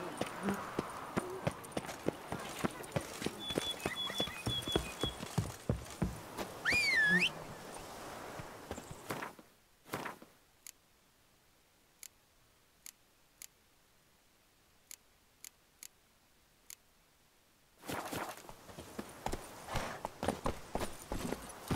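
The horse Roach gallops in The Witcher 3, a fast, steady clip-clop of hooves close by for about nine seconds, then only sparse isolated clicks over near silence before the hoofbeats resume loudly.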